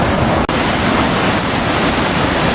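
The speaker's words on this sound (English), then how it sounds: "These are the magnificent Iguazú waterfalls that straddle 2 countries, Argentina and Brazil." The Iguazú waterfalls on the border of Argentina and Brazil roar in a loud, steady, dense wash of noise with no let-up, under an overcast sky.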